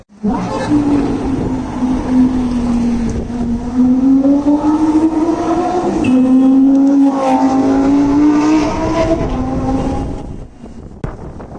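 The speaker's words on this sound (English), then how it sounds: "I crossed the road and I heard the V10" A Lamborghini V10 engine drones loudly nearby in city traffic in Mumbai, a sustained, slightly rising and falling tone with a shift in pitch partway through, fading away near the end.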